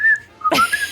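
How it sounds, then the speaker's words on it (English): A person whistles a short, lucky fighting tune: a bright sustained tone that breaks off briefly and resumes, close and clear, with a burst of other noise partway through and no talk. "I'll be whistling my lucky fighting whistle."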